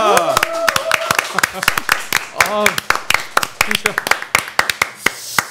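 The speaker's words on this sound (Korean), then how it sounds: "박수로 환영합니다" A small group in a Korean political talk-show studio claps to welcome two guests, a burst of sharp, close hand claps in uneven rhythm mixed with talking voices.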